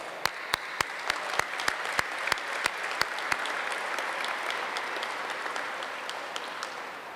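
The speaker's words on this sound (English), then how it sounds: "the leaders involved in that process deserve a round of our applause" Audience applause fills a gala dinner hall, a steady wash of many hands with a few sharp, loud claps standing out in front early on, then settling into an even, sustained clapping.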